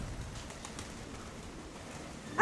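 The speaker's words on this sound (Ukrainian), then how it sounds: "Зараз подивимося, що тут за голуби, які породи." Pigeons in a fancier's loft in Dnipro coo softly and faintly, half buried under a steady background hiss.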